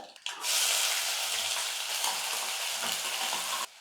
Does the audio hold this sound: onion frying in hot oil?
yes